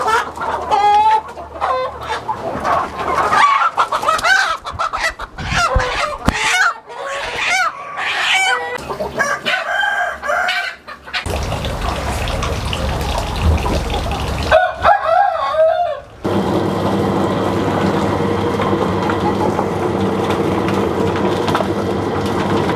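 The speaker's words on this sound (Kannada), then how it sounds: "ಈ ದಿನ ನಾನು ಕಟಿಂಗ್ಗೋಸ್ಕರ ಒಂದೇ ಏಜಿನ ಕೋಳಿ ಹಿಡ್ಕೊಡ್ತಾ ಇದ್ದೀನಿ." Native country chickens of the same age squawk, cluck and flap loudly as they are caught for cutting at a hotel's poultry stock, close agitated cries in bursts with brief crowing.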